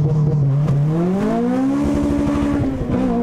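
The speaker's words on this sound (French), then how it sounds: "on est prêt pour un launch control" Tuned Honda Civic Type R, right-hand drive with about 247 horsepower, pulling away under launch control, its engine note rising steadily and loudly from inside the car with a brief shift-like dip near the end.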